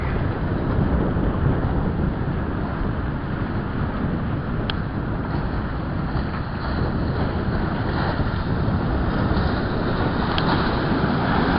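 Continuous broadband rumble of a boat moving over Lake Tahoe, with heavy wind buffeting the microphone throughout.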